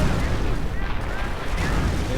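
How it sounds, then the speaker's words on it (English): Artillery shells boom and rumble against a Panzer Elite base in a real-time strategy game battle, with heavy low blasts, overlapping explosions and a voice speaking over the continuous din. "More artillery against the Panzer Elite base."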